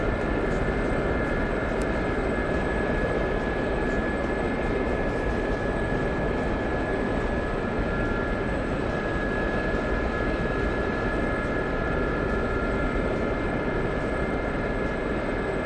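Helicopter flying in the DCS flight simulator game, a continuous droning engine and rotor roar with a steady whine above it, constant and unbroken throughout with no talking.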